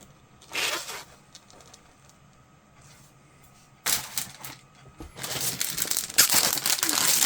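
A plastic bag holding sprues from a Great Wall Hobby 1/48 TBD-1 Devastator model kit crinkles close up in several bursts, a brief rustle early, then longer, louder crackling handling toward the end.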